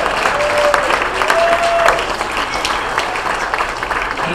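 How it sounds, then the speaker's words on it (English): A crowd at a clean comedy show applauds the comedians, steady clapping with a few sharper claps and faint whistles on top, the sound easing slightly toward the end. "How about a round of applause for everybody who's seen that?"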